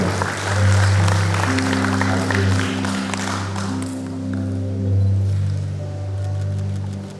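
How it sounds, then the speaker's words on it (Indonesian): Wedding guests clapping after the ring exchange at a church blessing ceremony, a light patter of applause over a loud sustained organ-like musical tone that fills the room. "Boleh kita berikan sambutan tepuk tangan saudara."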